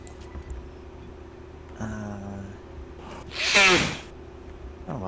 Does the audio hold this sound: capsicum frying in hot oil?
no